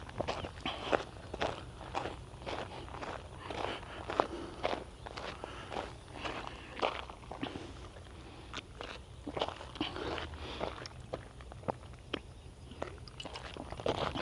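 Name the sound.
footsteps walking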